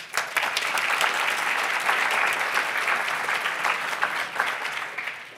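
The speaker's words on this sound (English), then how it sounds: "Big round of applause." An audience at a PyData London 2022 lightning-talks session breaks into loud, sustained applause, a thick, crackling mass of clapping lasting over five seconds before slowly thinning out.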